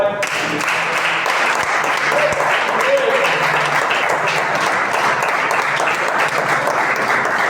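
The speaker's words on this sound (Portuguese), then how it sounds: "As palmas a você." Sustained applause from a church congregation during a sermon fills the space steadily from start to finish, dense and even, with faint voices mixed in beneath the clapping.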